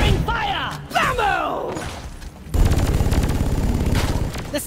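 Rapid weapon fire in the Deep Rock Galactic co-op shooter starts midway as a dense, loud stream of shots, following shouted voice lines and game chatter in the first half.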